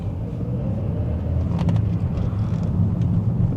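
A car in a Glasgow driving test pulls away in first gear from a traffic light, its engine a steady low rumble heard from inside the cabin with a few faint ticks and clicks, and no talk.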